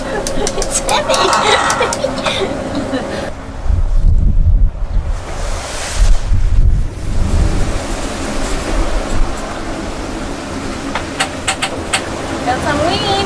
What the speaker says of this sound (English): Got some wind!